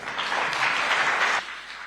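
An audience claps loudly after a speech at a public event in Kenya, a dense burst of applause that fades near the end.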